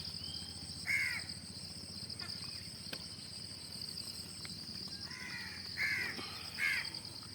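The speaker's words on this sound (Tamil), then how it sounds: "அப்புறம் காக்காய்க்கு வர வைக்கணும்." Crows caw several times, a few single calls and one close pair, over a steady background of crickets chirping. The calls are fairly faint and come from birds being fed curd rice outdoors.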